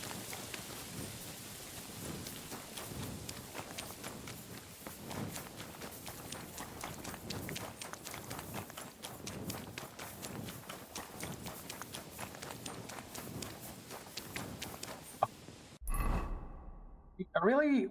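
Rhythmic clip-clop of a horse's hooves trotting steadily throughout in the video game Kingdom Come: Deliverance II, ending in a brief burst of other game sounds.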